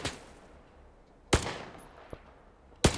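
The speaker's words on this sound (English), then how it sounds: "When you hear the headshot sound, I don't know what sound effect that is, but it's just, it is so clean" Game gunfire in the Stalker 2 first-person shooter: a few sharp, loud single shots spaced about a second or more apart, each with a crisp crack and a short decaying tail, plus a small faint click between them.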